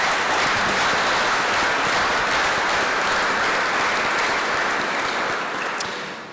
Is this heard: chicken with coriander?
no